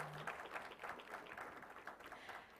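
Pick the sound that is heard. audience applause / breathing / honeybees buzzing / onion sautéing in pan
audience applause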